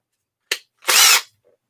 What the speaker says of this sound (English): I will drill this one out.